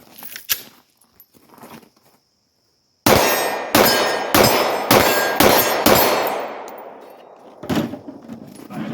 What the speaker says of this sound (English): we're going to do two-handed shooting now in my strong hand